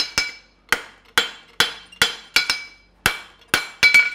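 A hammer strikes shoe heel material to flatten it during cobbling, landing about ten sharp, close, ringing blows in an uneven rhythm, with a quick double tap near the end.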